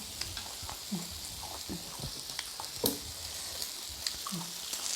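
Pork grilling on a Thai moo kratha pan gives a steady close sizzle and crackle with scattered pops and light stirring clicks, no talk over it.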